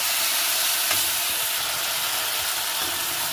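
Turmeric and chilli powder are stirred into masala frying in oil for a fish-head moong dal, a loud broad sizzle running continuously with faint scraping strokes of the spoon underneath.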